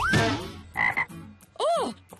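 Three loud, close frog croaks: a long raspy first call, a shorter buzzy second, and a final swooping croak, each with brief gaps between.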